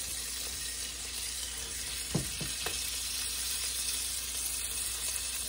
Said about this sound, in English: I'm going to take 5 slices of salt pork and lay that in the bottom of the pan